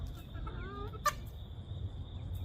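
Chickens cluck and call inside a coop, with a short sharp squawk partway through, over a low rumbling background and a steady high tone.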